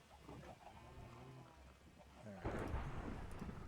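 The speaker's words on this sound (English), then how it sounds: "thunderstorm." Thunder rolls in partway through a Minecraft thunderstorm, a broad low rumble rising over soft game ambience with quiet voices talking earlier.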